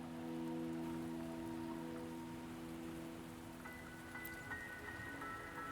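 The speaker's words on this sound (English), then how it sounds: "Don't worry, the rain won't last much longer." Rain falls steadily in a video game scene, a soft continuous patter under tonal music, fairly quiet throughout.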